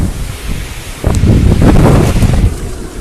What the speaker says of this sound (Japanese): 強い風がずっと吹き続ける